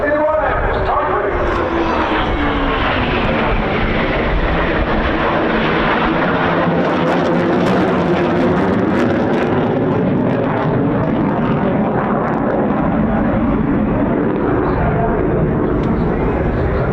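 A Typhoon fighter jet flies past at a seaside air festival, its roar building loud and sweeping overhead with a falling whoosh, a broad close rumble that dominates throughout.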